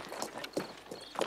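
Horse hooves clip-clop in a steady walking rhythm, three or four distinct strikes at a moderate distance, with no talk over them.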